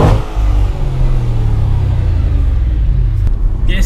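Audi RS4 V8 screaming at high revs, a loud sustained howl holding steady for several seconds before a sharp crackle as the throttle lifts, heard close with no talking.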